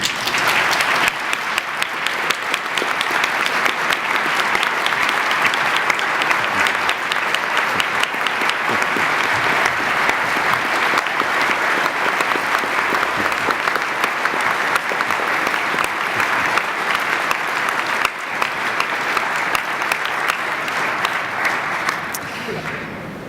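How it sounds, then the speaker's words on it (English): A large audience at a Texas Medical Association presidential installation gives sustained, loud applause and a standing ovation for a 101-year-old honored guest, dense clapping holding steady for over twenty seconds before tapering slightly. "Not only applause, but a standing ovation"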